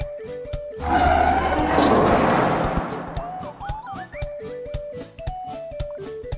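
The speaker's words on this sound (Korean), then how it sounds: "트럭에 치여서 터져버렸네." A loud crashing burst of a truck slamming into something in Terraria erupts over game music and fades after a couple of seconds as the tune carries on.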